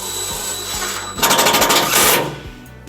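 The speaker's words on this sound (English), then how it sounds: "Next, we're going to secure our ground wire with our provided self-tapping screw." A power drill drives a self-tapping screw into the frame of a 2005 Chevrolet Colorado pickup to secure a trailer wiring ground wire: a loud, pulsing whir of about a second, close up, with a steady hum before and after.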